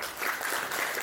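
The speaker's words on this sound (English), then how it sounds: "Give him a round of applause." A short burst of steady audience applause at a motivational speaking event, dense clapping from a crowd in a hall with no voices over it.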